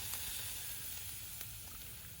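A pot of pork leg boiling vigorously over a wood fire, a continuous close bubbling and hissing with faint crackle, steady and alone without talk.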